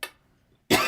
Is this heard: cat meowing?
no